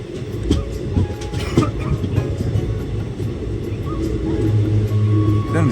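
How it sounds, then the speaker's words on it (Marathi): Steady low rumble of a train rolling along the tracks, with faint rhythmic clacks and rattling throughout. "आता आमच्या ट्रेनचा प्रवास चालू आहे"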